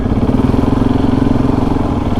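A classic Royal Enfield motorcycle engine runs steadily nearby, its deep, even thump continuing without a break.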